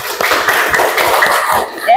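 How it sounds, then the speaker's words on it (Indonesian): Children in a classroom during a coding lesson clap their hands together in a rapid, dense burst of close applause that continues for about two seconds, with voices mixed in. "Tepuk tangan dulu untuk kita."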